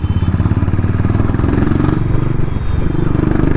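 Motorcycle engine chugging in a close, steady pulsing rhythm while riding through Sunday city traffic in Bangalore, loud and continuous.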